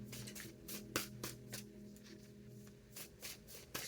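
A deck of tarot cards being shuffled by hand, with a run of crisp riffling bursts and soft rubbing between them, close and fairly quiet, with no talking.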